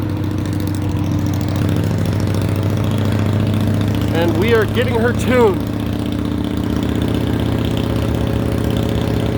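An Indian Scout Bobber motorcycle engine runs steadily on a dyno, a low droning hum in the background beneath someone talking.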